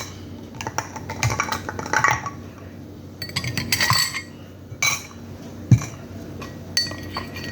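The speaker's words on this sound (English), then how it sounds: "Then we'll add our ice cube." An ice cube is added to an old fashioned cocktail, clinking and knocking against the glass in a series of bright, scattered taps and rattles, fairly close, with no talking.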